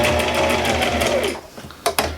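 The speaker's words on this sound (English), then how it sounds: "I'm going to sew out to where I can feel the batting underneath the flannel" A sewing machine stitches through flannel layered over batting, running steadily at close range before stopping, followed by a couple of sharp handling clicks.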